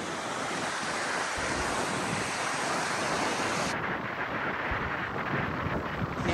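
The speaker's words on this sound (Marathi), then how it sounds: "वॉटरफॉल आहे, मॅनमेड क्रिएट केलेला आहे." A man-made waterfall with a fast, forceful flow, heard as a loud, steady broadband roar of rushing water that fills the whole stretch, with a slight wind buffet on the microphone and no talking.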